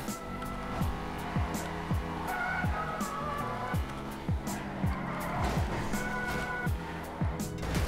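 A car in GTA 5 roars along with a steady engine drone, tires squealing and skidding repeatedly in short bursts as it corners, loud and close throughout with no talk.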